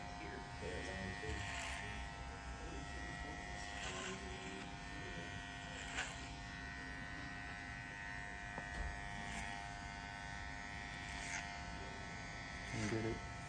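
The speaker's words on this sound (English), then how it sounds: "I prefer clipper over comb for most things" Electric hair clippers buzz steadily through a barber's clipper-over-comb fade and beard trim, a close continuous hum with brief rises as the blade passes through hair, running throughout beneath occasional speech.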